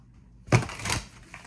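Tarot cards being shuffled: a brief rustling riffle of card stock after a quiet pause, with a second softer flutter at the end, fairly close and moderately quiet.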